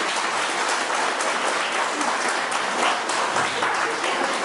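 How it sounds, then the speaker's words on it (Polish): A crowd at a harvest wreath contest in Łupowo claps steadily and loudly throughout, a dense, even applause with no talking over it. "wielkie brawa dla wszystkich wykonawców"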